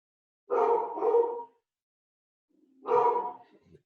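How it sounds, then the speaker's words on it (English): A dog barks in three close, loud, harsh bursts: a quick pair, a pause of about a second, then a single bark. There is no talking. "I should wait for the dog to stop barking"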